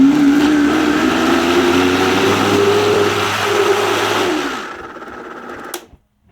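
A Vitamix blender runs on slow speed mixing cassava pone batter, a loud steady whirring motor hum that fades and winds down near the end, followed by a brief clatter.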